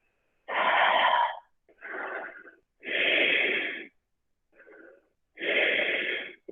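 Slow, deep breaths during a yoga half moon pose, close and audible, as a series of long airy inhales and exhales with short silent pauses between them, one much softer than the rest.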